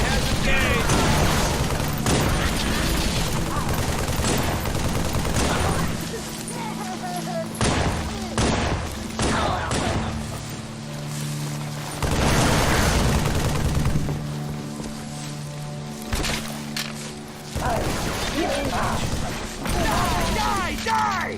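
Heavy gunfire and explosions in the video game Halo: The Master Chief Collection, with dense bursts of shots and booms coming in loud waves, separated by short lulls and mixed with shouting voices.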